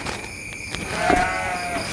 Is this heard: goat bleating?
yes